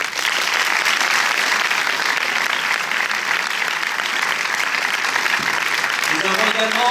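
Audience at a film premiere in Paris applauding loudly and steadily for several seconds, a dense wash of many hands clapping with no voices standing out, fading slightly at the end as a tone-like sound rises.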